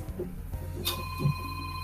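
A telephone rings in a room, a single bright ring burst followed by a sustained electronic tone, heard faintly and without any talking.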